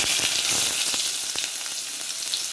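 Chopped onion and mustard seeds fry in hot oil in a pan for cabbage poriyal, a loud, continuous close sizzle scattered with sharp crackles and pops, cutting off abruptly at the end.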